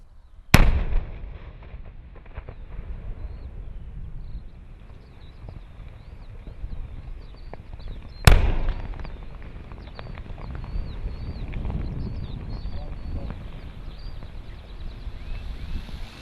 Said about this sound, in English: After each explosion, we check the results.